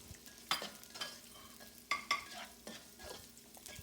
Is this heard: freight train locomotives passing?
no